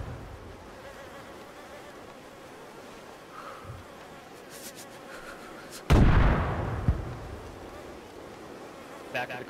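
A grenade blast in DayZ hits loud and sudden partway through, then fades into rumble after a quieter stretch of faint ambient noise.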